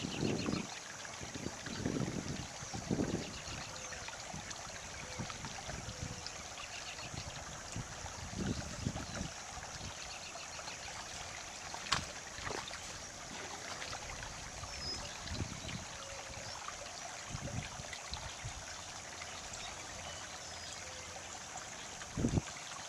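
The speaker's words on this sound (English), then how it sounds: "This is the water running off the shore property into the orchard." Storm runoff pours off a property and down into an orchard, a soft continuous wash of flowing water heard from close by, mixed with light wind buffeting and occasional small knocks, with no voices.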